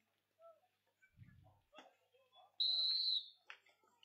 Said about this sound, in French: Le coup de sifflet va être donné par mon collègue Daniel Reeves.